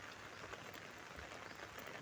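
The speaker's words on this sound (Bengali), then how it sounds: "প্রচুর বৃষ্টি হচ্ছে।" Heavy rain falls in a steady, faint wash of hiss on a village road, continuous and without talking.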